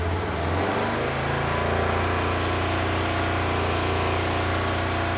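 A Kawasaki KLE motorcycle with a charging fault has its engine brought up from idle to higher revs, a loud steady buzzing drone rising in pitch in the first second and then held constant, close by, no talk.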